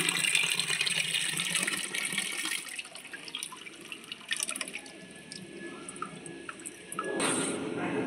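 Water trickles and drips steadily as it is poured onto a large plant at home, a soft continuous splashing with brief louder gushes, close by and without talking.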